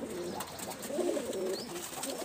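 Giribaj pigeons from Rajshahi give soft, rolling coos at close range, faint and repeated over low background noise.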